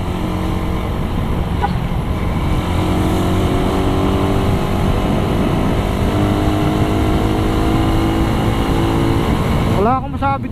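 A Suzuki Raider 150 motorcycle engine runs steadily and loudly throughout, with a continuous low harmonic drone and a sharp rising rev near the end.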